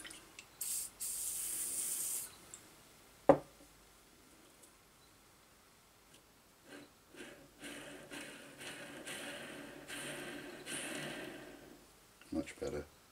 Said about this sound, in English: I'll leave the bearings actually in there, but I'll give them a good spray.